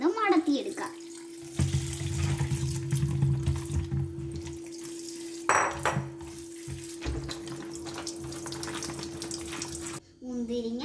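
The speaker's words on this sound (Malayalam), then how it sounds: "ആദ്യമേ നമുക്ക് മുന്തിരിങ്ങ നല്ലവണ്ണം കഴുകി അതിൻ്റെ ഞെട്ടിൽ നിന്ന് മടത്തിയെടുക്കാം" Grapes are rinsed under a running kitchen tap for grape juice, a steady splashing stream with shifting spatter as the fruit is handled, close and loud, briefly cut off near the end.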